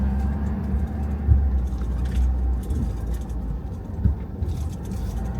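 A large truck rolls into a parking structure, a low continuous engine rumble echoing around concrete with occasional thumps and faint rattles, steady and fairly close.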